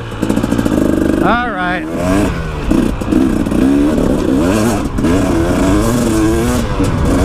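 A brand-new KTM 300XC-W two-stroke dirt bike engine revs up and down in loud, rising and falling bursts close by, with a brief spoken remark over the noise.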